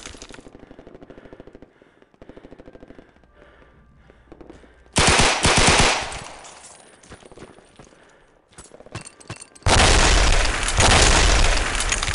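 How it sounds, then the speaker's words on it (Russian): Gunfire and explosions in the video game Red Orchestra: Combined Arms, a UT2004 mod: quieter shots and clatter, then two sudden, very loud bursts of blast and rapid fire, each sustained for several seconds. "Граната!"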